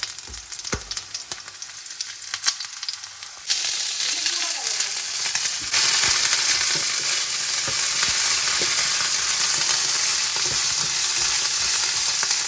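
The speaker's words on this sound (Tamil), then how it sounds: "கடுகோட கொஞ்சம் உள்ளியம் போட்டு மெல்லமாக பொன்னிறமாக வர்ற வரைக்கும் தாளிக்கிறேன்" Mustard seeds and garlic fry in hot oil, sizzling and crackling continuously, getting louder and denser partway through as more goes into the pan; no voices.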